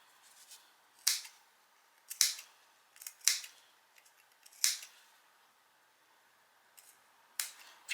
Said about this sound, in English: So I'm just going to snip it into the seam allowance